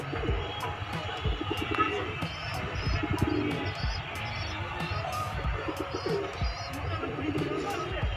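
Desi high-flyer pigeons coo steadily in low, throaty burbles, several birds overlapping nearby in Delhi, with occasional sharp chirps and faint background voices.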